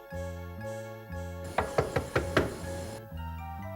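Someone knocks on a door five times in a brisk, loud run, set against sustained music before and after.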